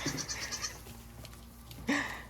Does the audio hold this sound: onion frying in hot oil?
no